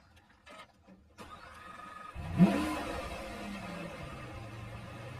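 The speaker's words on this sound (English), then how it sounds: "The V12 comes to life." A Lamborghini V12 fires up with a few starter clicks and whirs before the engine catches in a sharp roar, then settles into a steady, fairly loud idle.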